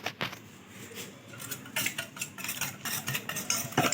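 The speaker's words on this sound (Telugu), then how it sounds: "బాగా మిక్స్ చేయాలి బాని." A spoon scrapes and clinks against a bowl while bread omelette ingredients with garam masala are stirred and mixed, giving a steady run of close, repeated scrapes with no talk.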